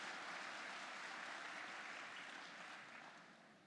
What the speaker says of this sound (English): A round of applause for Dino